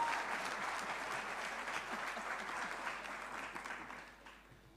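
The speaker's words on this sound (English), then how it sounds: "Can we give her a round of applause, please?" Sustained applause from an audience, a steady wash of clapping that gradually fades out at the end.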